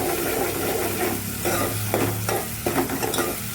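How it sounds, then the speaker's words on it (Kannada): Chopped onions hit a hot frying pan for a North Karnataka junaka made with gram flour, producing a loud sizzle with scraping stirs and a few sharp clatters from the utensil. "ಇವಾಗ ಈರುಳ್ಳಿನ ಸಹ ಹಾಕ್ತೀವಿ. ನೋಡಿ, ಚಾಪ್ ಮಾಡ್ಕೊಂಡಿದ್ದಂಥ ಈರುಳ್ಳಿ."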